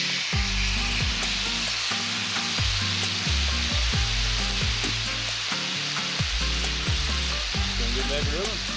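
Food sizzles steadily on a grill for taco night, a dense continuous hiss with scraping and clinking sounds and faint music running underneath.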